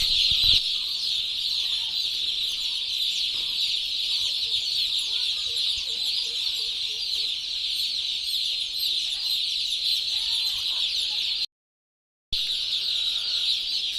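A crowd of newly delivered broiler chicks at a poultry farm cheep continuously in a shrill, overlapping chorus early in the morning, loud and constant with a short silent gap near the end.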